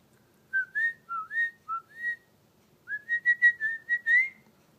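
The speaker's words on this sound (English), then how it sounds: "I know, it's hard to figure out what I'm whistling." A person whistles a simple tune alone, a run of clear, slightly wavering notes in two phrases separated by a short pause, close and fairly soft.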